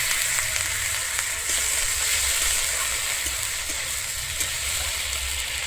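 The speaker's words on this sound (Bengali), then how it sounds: "আমি এরপর এখানে অল্প পরিমাণে জল দিয়ে দিচ্ছি" Water poured into masala frying in a pan for a koi fish curry with taro, setting off a loud, steady, hissing sizzle that holds evenly throughout with no talking.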